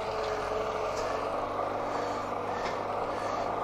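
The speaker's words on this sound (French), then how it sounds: "je vais prendre l'aspiration du tracteur" A tractor drives on the road just ahead of a cyclist, heard as a steady, continuous engine rumble mixed with broadband road and wind noise, with no talking.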